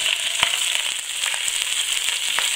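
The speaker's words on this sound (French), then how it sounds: "maintenant on laisse dorer tranquillement en les tournant régulièrement" Rabbit pieces brown in a pan with a steady close sizzle, broken by scattered pops and crackles at irregular intervals.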